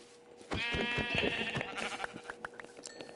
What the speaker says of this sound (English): Oh, another sheep.